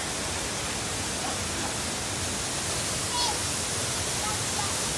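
The waterfall at Villa Cascada roars as steady broadband white-noise rushing water, constant and enveloping, with a brief faint voice partway through.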